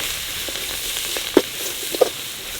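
Spices with pepper are stir-fried in a village kadai pan, a steady soft sizzle broken by a few sharp scraping clinks of the ladle against the metal, with no speech.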